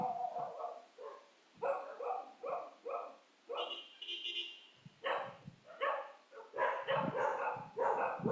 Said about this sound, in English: I think my dogs bark